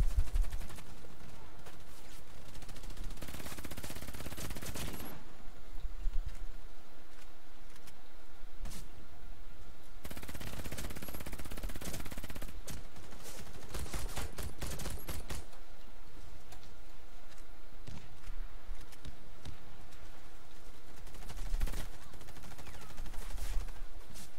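PDW bullpup gunfire in the shooter game Warface, heavy bursts of rapid automatic shots in several loud clusters separated by quieter gaps with clicking and handling noises.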